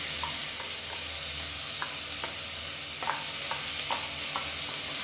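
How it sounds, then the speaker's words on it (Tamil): Onion, black pepper and cumin sizzling steadily in a hot pan while being stirred, with scattered scraping clicks of the spoon over a constant frying hiss, close and fairly loud. "இதையும் சேர்த்து நல்லா வதக்கி வச்சுக்கலாம்"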